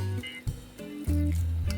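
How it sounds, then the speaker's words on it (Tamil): Water poured into a bowl of mint pakoda batter made with onion, a steady, close liquid pour with a brief interruption before it resumes more strongly. "தண்ணி வந்து கொஞ்சம் நான் விட்டுக்கிறேன்"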